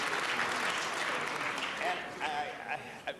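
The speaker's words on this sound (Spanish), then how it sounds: "un gran aplauso y una bienvenida, por favor." An audience applauds to welcome a guest at a city council meeting, a dense, steady burst of clapping that fades toward the end as a voice begins to speak.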